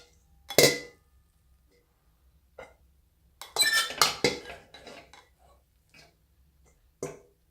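A metal mixing bowl for sushi rice is picked up and set down, giving a few sharp clanks and clinks with quiet gaps between, close by and fairly loud.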